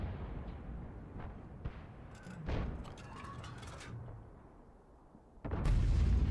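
Heavy gun blasts from a Lorraine 155 51 artillery gun in the video game World of Tanks boom amid rumbling battle noise, with a deep loud report near the end that lingers; no voices.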